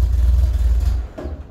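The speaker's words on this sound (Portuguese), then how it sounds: "Agora tá acelerando bem, hein?" A Ford F100 truck engine revs hard while parked, a loud low rumble that sputters and drops off near the end as the engine stalls.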